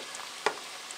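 Zucchini fritters fry in oil in a tall pan, giving a steady soft sizzle with one brief clatter partway through and no talking.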